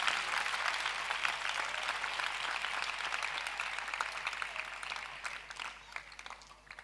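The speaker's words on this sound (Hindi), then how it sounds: "इस बाइबल मुकद्दस के लिए, इस कलाम के लिए जोर से ताली बजाएं आज," Church congregation applauding at a sermon service, a steady wash of many hands clapping together that slowly fades toward the end, fairly soft and distant.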